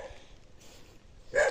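Dogs at a house give one short, sharp bark near the end, standing out over a faint, low background murmur.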